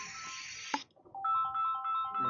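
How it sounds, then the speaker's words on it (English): A mobile phone ringtone plays as a short melodic electronic tone pattern, fairly faint and alone after a brief burst of hiss. "my phone's ringing"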